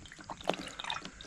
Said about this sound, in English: that's the radiator gurgling, not my belly